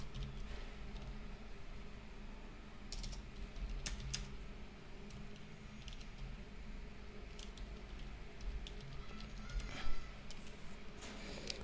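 Light, steady tapping on a computer keyboard, with a few clusters of clicks over a constant low hum, faint and close.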